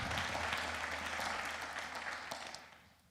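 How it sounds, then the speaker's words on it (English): Audience applause after a shout-out at a spring semester opening meeting, a steady broadband patter of many hands that fades out toward the end. "Let's give them a round of applause"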